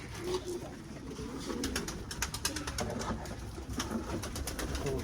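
Racing homing pigeons coo in soft, repeated low calls over a steady outdoor background with faint chirps, no speech present.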